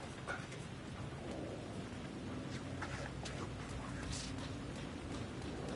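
Steady rain hisses in the Alan Wake 2 video game, with low rolling thunder rumbling underneath, a continuous, moderately loud downpour with soft brief swells and no talking.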